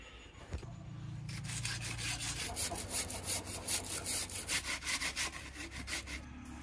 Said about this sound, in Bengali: এই পাটালিটা আমি গ্রেট করে নেব।